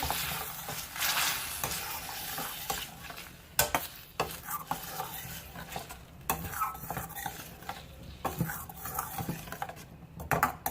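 Chicken manchurian ingredients with sweet chili sauce being mixed in a hot pan, with a sizzle beneath irregular utensil scrapes and clinks against the pan, some clusters of busy stirring, close up and no speech.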